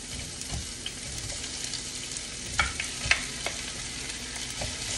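Ginger and onion sauté in a hot pan with a steady, close sizzle, broken by a few sharp scrapes and clinks of a utensil stirring, with no talk.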